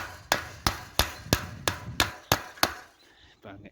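Fencing pliers drive a fence staple into a wooden post with seven sharp, evenly spaced strikes, close and loud, followed by a couple of softer taps.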